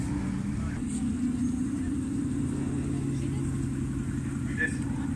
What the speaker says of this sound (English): McLaren 675 LT just passing